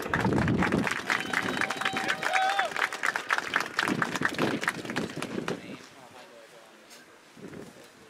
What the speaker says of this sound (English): So please join me in a big round of applause for Dustin Rich.